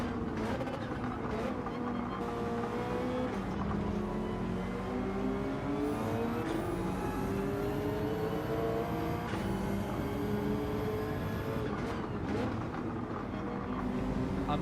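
Subaru BRZ racing in a video game, its engine droning steadily throughout with rising and falling revs and gear shifts, loud and close, with a faint voice underneath.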